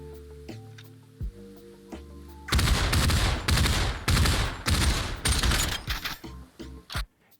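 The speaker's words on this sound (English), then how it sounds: "Next, we will fire a full magazine two-handed." An assault rifle in the VR game Population ONE empties a full magazine two-handed, loud rapid bursts of close gunfire over about five seconds, followed by a few mechanical clicks, with quiet game music before the shooting.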